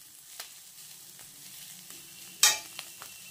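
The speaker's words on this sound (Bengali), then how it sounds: "এবার আমি পরোটাটাকে ভেজে নেব।" A paratha frying in a pan, a faint low sizzle with occasional soft clicks and one sharper scrape or crackle near the end, with no one talking.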